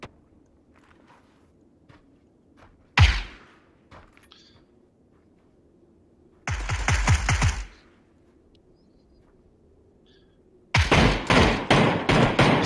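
PUBG gunfire in three bursts: a single loud close shot, then a rapid string of shots about a second long, then another fast volley at the end, separated by quiet stretches with faint background noise.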